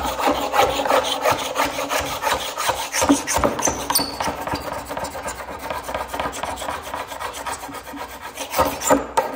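A cabinet scraper shaving dried glue off glued-up wooden boards: continuous close, gritty scraping in steady repeated strokes, fairly loud, with no voice over it.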